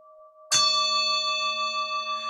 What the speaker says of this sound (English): Hear the sound of the bell. It calls us to inner attention.